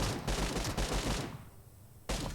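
Rapid automatic gunfire in the PUBG video game, a loud burst of repeated shots that stops and briefly resumes.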